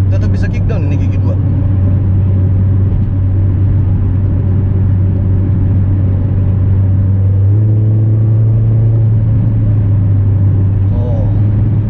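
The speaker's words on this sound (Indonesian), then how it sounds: "Oh, tapi suara RPM tingginya enak sih dari knalpotnya." Exhaust of a rare second-generation Toyota MR2 (W20) revving to high RPM while driving, a loud steady engine drone filling the whole clip with a pitch shift partway as it changes load, heard from inside the car.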